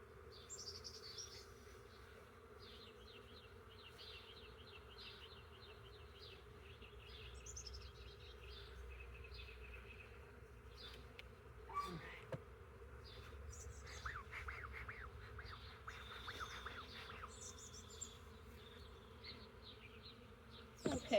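Honeybees buzzing around a beekeeper's hand: a continuous, wavering insect drone with many overlapping wingbeats, fairly close and steady throughout, rising and falling slightly as bees move about.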